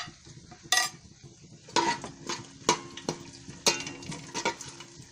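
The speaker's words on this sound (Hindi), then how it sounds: "अब इस मिर्च को थोड़ी देर फ्राई करेंगे।" Whole red chillies and cumin seeds fry in hot oil, a soft steady sizzle broken by several sharp metallic scrapes and clinks of a spoon stirring against the pan, close and fairly quiet, with no talking.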